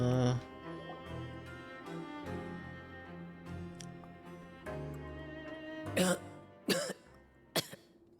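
Several coughs and throat-clearing sounds in a Genshin Impact cutscene, over a background of music and game ambience, growing sharper toward the end.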